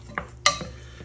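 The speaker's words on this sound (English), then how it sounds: "I'm gonna turn that way up and let that kind of start to sizzle a little bit." Celery, red pepper and parsley hit a hot pan with a couple of sharp sizzling bursts and a utensil scrape, short and close, over a quiet kitchen background.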